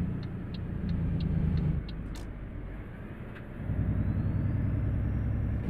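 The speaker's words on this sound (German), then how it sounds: "Hört sich schön an. Also Motorklang ist gut." A Volvo F Series Globetrotter truck engine in Euro Truck Simulator 2 drones with a steady low rumble, swelling and easing as the throttle changes, with faint clicking ticks above it and no talking.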